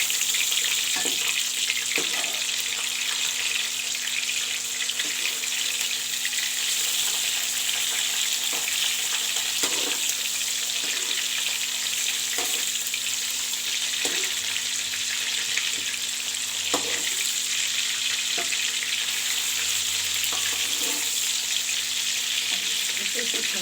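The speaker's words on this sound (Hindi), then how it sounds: "फ़िश को हल्का सा बस फ्राई करना है।" Fish sizzles steadily as it lightly fries in a pan. The crackling stays close and continuous, broken by regular soft knocks and scrapes from a utensil turning the pieces.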